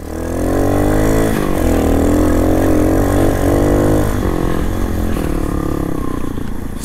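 Yamaha XT250 motorcycle engine running steadily while riding through a few inches of snow, a loud close single-cylinder drone with pitch shifts as the throttle rises and eases, no talk.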